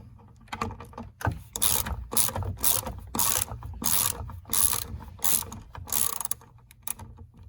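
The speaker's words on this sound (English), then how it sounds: "And then we're going to take off the hot service stop as well." Hot service stop being removed from a thermostatic shower valve, a close run of rhythmic ratcheting clicks and metallic turning bursts repeating about every half second, with no talk.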